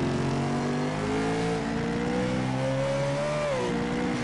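A race car climbing the hill at Infineon Raceway, its engine droning loud and close with tonal harmonics that rise steadily as it pulls up the slope.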